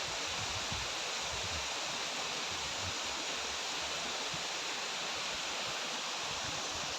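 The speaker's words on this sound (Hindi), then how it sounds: "इन पहाड़ों से झरकर बहता हुआ पानी।" Water streaming down from the hills near Dharamshala, Himachal Pradesh, a steady broadband rush that stays even and unbroken throughout, close and fairly full, with no voices over it.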